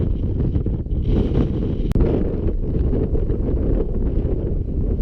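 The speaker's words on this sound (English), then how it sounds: "Wow, it's nice to be out of that wind." Strong wind on an exposed hilltop walk buffets the microphone in a continuous loud rumbling roar with gusty surges, close and unbroken, and no one speaks.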